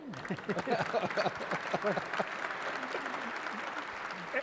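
Dinner audience in a banquet hall breaks into steady applause of moderate loudness, with a voice talking over the clapping early on before it continues alone.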